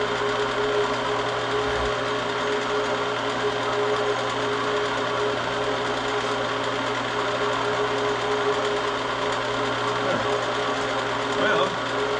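A metal lathe turning a wooden base runs with a continuous, even mechanical hum and faint rattling vibration throughout, steady and unbroken from start to finish.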